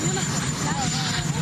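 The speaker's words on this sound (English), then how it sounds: "You have a helicopter." A helicopter nearby gives off a loud, steady rotor-and-engine roar that runs unbroken through the short moment and drowns out other sound.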